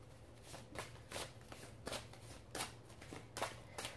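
Tarot cards are shuffled for a reading in quick bursts of riffling and flicking, about five or six distinct rounds, close and clear over a quiet background with no speech.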